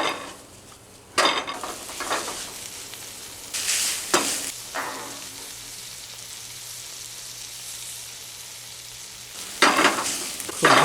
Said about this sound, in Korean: 그 맛있는 소리가 지지지 나지 않습니까, 지금?